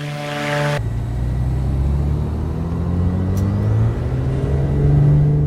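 Simulated turbocharger whine of a Black Square Duke aircraft in a flight simulator, a loud steady engine drone with rising tonal whine, following a brief different tone at the start.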